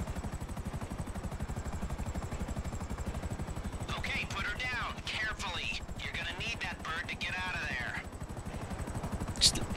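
A helicopter landing in a video game gives a steady, pulsing rotor thrum throughout, with voices talking over the middle stretch.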